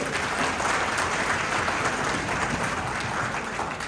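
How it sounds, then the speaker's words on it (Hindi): A live audience claps steadily for a correct answer during a spoken lecture, a dense, even wash of applause that holds at full strength throughout with no voices over it. "और जोर से ताली बजाओ अपने सही उत्तर।"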